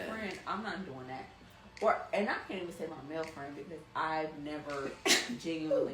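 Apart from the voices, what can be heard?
sneeze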